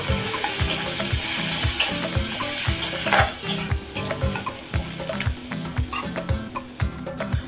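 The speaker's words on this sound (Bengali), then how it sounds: "পেঁয়াজটাকে একটু ভেজে নেব" Onion sizzles in hot oil with cardamom, cloves and cinnamon for a spicy fish curry, a loud steady fry broken by regular rhythmic scrapes of a spoon stirring the pan.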